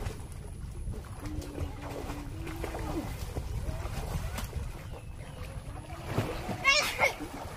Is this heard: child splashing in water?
yes